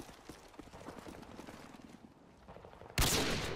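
Rapid gunfire in Call of Duty: Modern Warfare 2, a fast rattling volley of shots up close that thins out before a sudden loud burst at the end.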